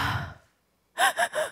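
A voice imitates weird, crying-like breathing: a drawn-out breath fading to silence, then three sharp, gasping sobbing inhales in quick succession, close and fairly loud.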